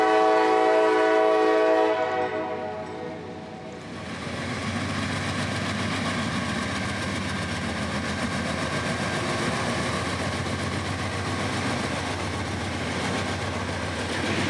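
CSX freight train M583 approaches, sounding a loud, sustained horn chord that breaks off after a couple of seconds. It gives way to a steady, heavy rumble of the engine and rolling cars that holds for the rest of the stretch.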